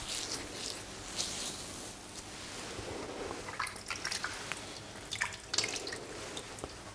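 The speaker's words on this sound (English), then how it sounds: "I always then wash the hands after to make sure we get as much of the oil off as possible." Water drips and trickles from a tap as hands are washed to remove oil after a barber's shave preparation, a soft, close, continuous splashing with scattered drip accents and no talking.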